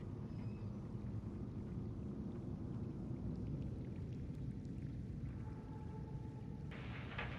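A thunderstorm rolls in the video game Subnautica, with steady rain and low rumbling thunder filling the scene continuously at moderate distance.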